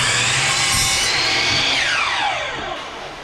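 A power saw whines loudly through vinyl plank flooring in one close, continuous cut, the pitch sliding downward as the blade spins down near the end.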